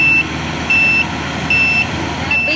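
A pickup or truck on a cattle farm sounds repeated steady electronic beeps, four evenly spaced tones about a second apart, clear and fairly loud over quiet outdoor background.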